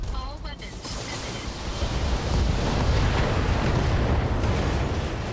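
Mech weapons fire in an urban Battletech battle, an Atlas unloading its full arsenal into an enemy Black Knight, with a rising roar of blasts and rumbling explosions that swell into a sustained, dense, loud wash as the mech is destroyed.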